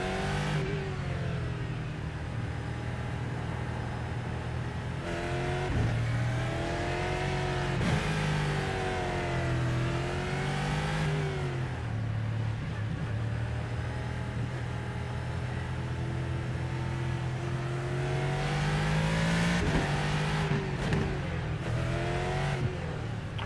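A Ferrari in a racing video game revs hard and steadily for the whole stretch, its engine note climbing and dropping in long sweeps, close and loud with no talk over it.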